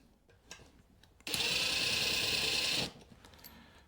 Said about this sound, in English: let me go ahead and put my fasteners in the receptacle there